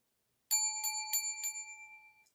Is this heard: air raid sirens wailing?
no